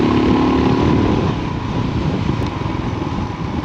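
A motorbike engine pulls hard in first gear, a loud, close, rough drone that starts strongest and then eases slightly while it runs steadily.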